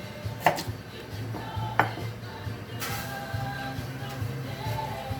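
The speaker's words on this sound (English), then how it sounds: "so just chucking the potatoes in" Potatoes drop into a pan in a kitchen, giving a few sharp knocks and clatters spaced apart over a low background hum.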